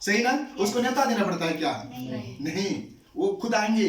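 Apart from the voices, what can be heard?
No everyday noise stands out behind the speech.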